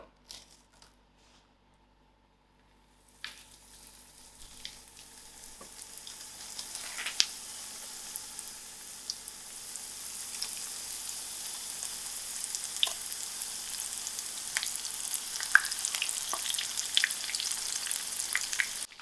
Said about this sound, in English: I've got half a centimeter of oil to my pan, and I've got my stove on very low heat so you can fry the meat thoroughly.